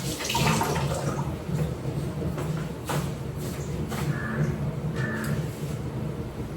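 Tomatoes and kitchen produce get a rinse under a running tap, a steady close splash of water with brief shuffles and handling noises, no talk.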